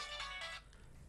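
An electronic telephone rings in one short, fairly faint burst that cuts off after about half a second, leaving quiet room tone.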